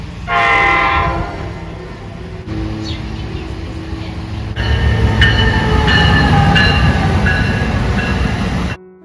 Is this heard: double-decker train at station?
yes